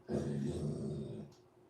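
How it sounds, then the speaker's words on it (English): A pit bull dog about three years old growls and yips close by, a continuous low rumbling snarl lasting over a second with a brief higher yip near the end. "Ooh, a puppy dog."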